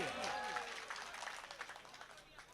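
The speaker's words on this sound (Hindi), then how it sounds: "एक बार जोरदार तालियां तबरेज भैया के लिए।" Applause from the crowd at an All India Mushaira poetry gathering in Jabalpur, a faint distant wash of clapping with a voice trailing off at the start.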